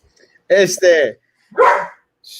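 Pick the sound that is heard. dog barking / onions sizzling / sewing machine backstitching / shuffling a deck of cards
dog barking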